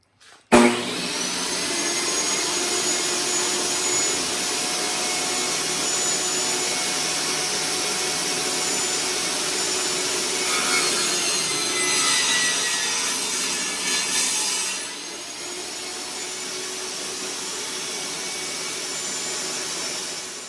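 A power saw rips wooden boards for a Layens hive, a loud sustained whine of the blade cutting through the wood for most of the stretch, easing off near the end.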